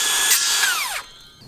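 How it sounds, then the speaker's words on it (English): A circular saw, a tool not built for heavy cutting, whines loudly at full speed and then spins down with a falling pitch, leaving near silence at the end of the burst. "I do have this though,"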